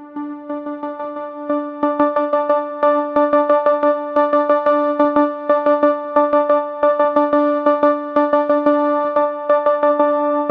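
Phase Plant software synth pushed through a Transgate rhythmic pattern, giving a steady harmonic tone chopped into quick, repeating gated pulses that run evenly throughout at a loud level with no voices.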